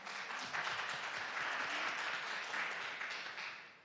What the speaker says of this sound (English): That should get applause.